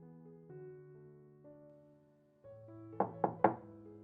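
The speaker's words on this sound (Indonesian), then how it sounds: "Ketukan di pintu" Three sharp knocks rap on a door in quick succession near the end, following a soft, sustained musical backing under a quiet dramatic narration.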